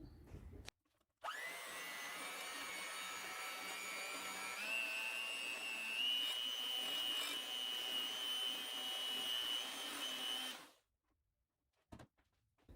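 An electric mixer or blender runs steadily for about nine seconds, mixing brown sugar and coconut oil, with a rising whine partway through and brief clicks before and after.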